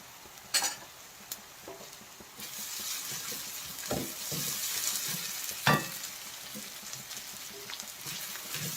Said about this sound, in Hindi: प्याज को हमें लाइट ब्राउन होने तक भून लेना है।